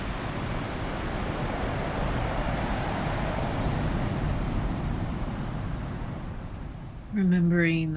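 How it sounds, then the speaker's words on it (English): Ocean waves wash in a steady, broad hiss of surf with slow swells in loudness, continuous and fairly soft, before a voice begins speaking at the very end. "you start to melt into the rhythm of the waves that you hear."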